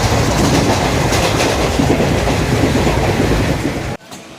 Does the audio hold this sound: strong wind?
no